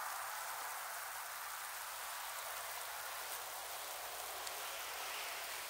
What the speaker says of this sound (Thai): มันตกแบบกึ่งหิมะกึ่งลูกเห็บอะเป็นเม็ดอะพอกระทบใบไม้มันก็ดังเปาะแปะเปาะแปะเหมือนฝนตกอะ